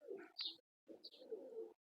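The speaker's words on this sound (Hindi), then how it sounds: "ये है छत वाला कबूतर" Rooftop fancy pigeon cooing close by in two short bursts separated by a brief pause, soft throaty coos with a chirpy upper edge, no talking.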